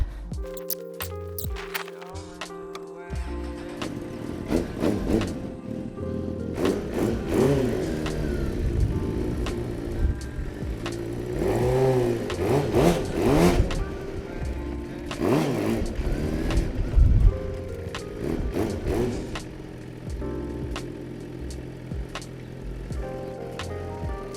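A motorcycle engine revving hard during a standing burnout, close and loud, with repeated rising revs and a sustained roaring whine over the middle stretch.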